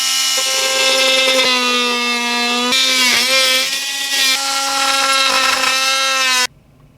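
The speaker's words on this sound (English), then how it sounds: "Just need to do some cuts with my multi-tool to accommodate for these" Oscillating multi-tool cutting near hinge brackets on the back of a Technics SL-1200MK2 turntable, a loud steady high-pitched buzzing whine held for about six seconds with brief dips, then cutting off abruptly.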